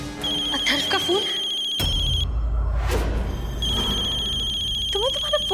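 Someone's mobile phone ringing with a repeating electronic ringtone, cutting off briefly and resuming, heard under ongoing speech with a low rumbling background.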